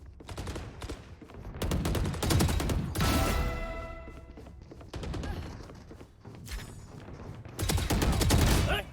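Video game gunfire crackles in rapid bursts, several loud volleys of automatic shots separated by brief quieter gaps, close and punchy with game sounds underneath.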